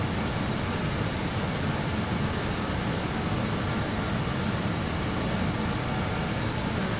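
Steady, loud jet engine roar of a BAe 146 airliner in Microsoft Flight Simulator 2020, a dense broadband rumble that holds even throughout as the four-engine aircraft's power comes up, with no voices.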